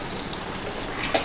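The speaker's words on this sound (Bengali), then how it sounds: "এই ময়দাটা ধুতে থাকবো।" Flour dough is washed in water, with a steady gush of running or splashing water throughout, close and fairly loud, with no voices.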